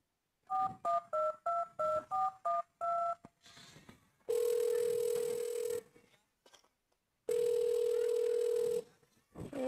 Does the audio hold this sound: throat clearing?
no